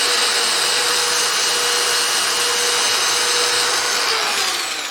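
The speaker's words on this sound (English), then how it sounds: "you can come in with a sander, hit that little nub right there" Power sander with 120-grit paper working the bottom nub of a small turned wooden gnome ornament, a steady loud whirring hiss held for several seconds before easing off at the end.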